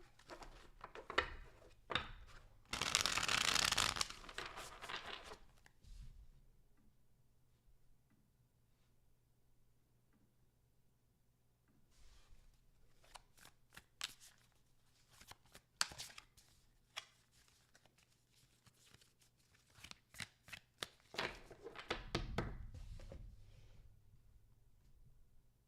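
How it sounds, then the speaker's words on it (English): Quiet riffling and soft tapping of shuffled tarot cards, with a louder burst of rapid flicking early on and scattered light clicks afterward. "Last shuffle."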